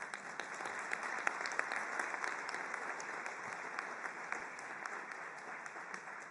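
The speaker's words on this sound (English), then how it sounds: "I think we should give them an applause." A UN Refugee Agency press event audience applauds the interpreters with a sustained, moderately distant patter of many hands, fairly even throughout.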